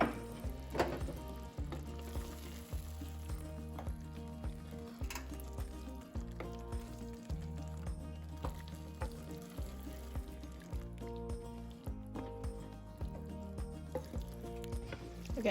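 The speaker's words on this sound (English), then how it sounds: "this has been simmering for a total of like 40 minutes" Cauliflower tikka masala sauce simmering in a pan, a continuous soft bubbling and sizzling with small pops and drips, steady and close throughout.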